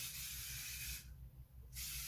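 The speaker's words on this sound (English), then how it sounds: "spray like my ends because it's supposed to be like oil thing" Got To Be hair oil sprays onto the ends of hair in a fine, soft hiss lasting about a second, stopping briefly and then starting again, near and quiet.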